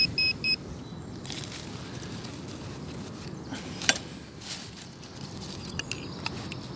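A metal detector gives a few short, high electronic beeps at the very start, then soft rustling and scuffing outdoors with occasional clicks.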